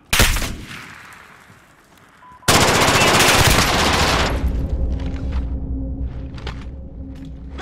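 Heavy automatic gunfire from Call of Duty: Modern Warfare (2019) Team Deathmatch, a short burst at the start, then a loud sustained volley of rapid shots that settles into rumbling battle noise.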